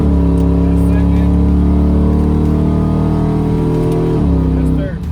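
A truck with a TH400 automatic transmission pulling hard, its engine droning loud and steady with rising pitch until a sudden drop as it snaps into third gear near the end.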